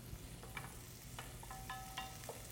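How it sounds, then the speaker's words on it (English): Onions sweating in a pan give a soft, steady sizzle with light stirring clicks and scrapes, heard alone at a moderate level. "So we're sweating off the onions."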